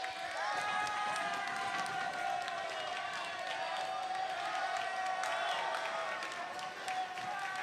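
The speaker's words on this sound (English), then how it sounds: "The Pleasantville fans going crazy as we're going to see a substitution." Basketball fans in a high school gym crowd noise at a boys varsity game, a steady roar of cheering and shouting, with squeaking sneakers and court sounds under it and no letup.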